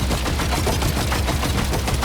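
Rapid gunfire from a gun in Death Stranding 2 rattles steadily for about two seconds, a dense run of evenly spaced shots heard up close and loud without talk.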